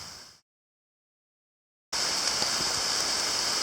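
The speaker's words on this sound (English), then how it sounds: "it doesn't look like we beat the rain" Steady rain falling outdoors at a ruins site after a round of treasure hunting, a loud, even hiss that cuts out briefly and then resumes at full strength, with no voices.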